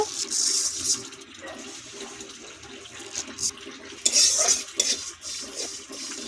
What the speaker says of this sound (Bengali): একটু ভেজে নেব মুগ ডালটা, মুগ মুসুর মিলিয়ে করব।